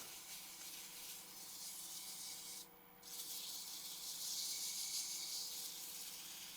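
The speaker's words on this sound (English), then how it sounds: "finish up with a little 220 grit" Hand sanding of a wooden mortar with fine 220 grit sandpaper: a steady, close, soft hissing rub that runs nearly continuously, with one brief pause partway through.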